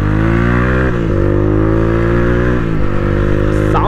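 A motorcycle engine revs and idles at close range at a petrol pump, its steady harmonic drone rising and dipping through a few throttle blips, with a brief higher whine near the end.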